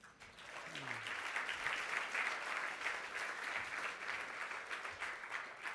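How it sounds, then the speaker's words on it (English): Audience at a Canadian Club luncheon breaking into sustained applause, a dense wash of clapping from many hands that swells quickly and holds steady, with a brief voice at the start. "Clap for the trades."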